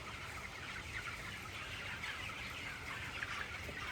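Broiler chickens clucking inside a poultry farm shed, a faint, dense murmur of many birds with scattered soft clucks over a steady background hum.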